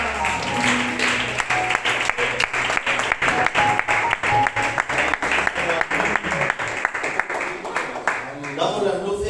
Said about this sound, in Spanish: dar un aplauso al Señor